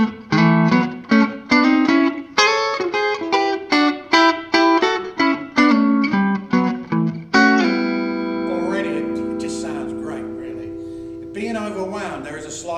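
Clean electric guitar on the neck pickup with a warm, rounded tone plays a rhythmic run of plucked notes, then lets a sustained chord ring out and fade.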